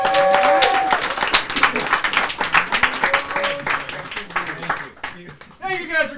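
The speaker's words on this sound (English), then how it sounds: "So let's give him a big round of applause." A comedy club audience gives a loud, dense round of applause with some cheering for host Joe Starr, tapering off before a voice starts talking at the end.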